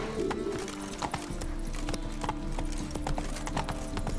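A horse galloping in The Witcher 3, rapid, close hoofbeats in a driving rhythm with a brief whinny near the start and no talking.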